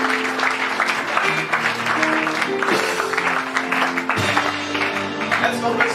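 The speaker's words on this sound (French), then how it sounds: "Let's clap for the Lord." Church congregation clapping along in worship, steady dense applause filling the space beneath sustained music tones, continuous and fairly loud throughout.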